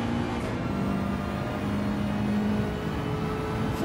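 Racing car engine held at full throttle around Monza in a racing game, a steady, loud droning whine with a sustained pitched tone running throughout, unbroken and alone with no talk.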